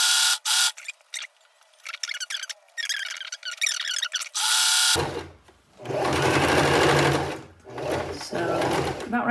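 Sewing machine stitching scrunchie fabric with a couple of backstitches: rapid, loud mechanical chattering in bursts, starting and stopping several times, close to the microphone.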